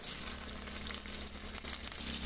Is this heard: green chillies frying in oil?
yes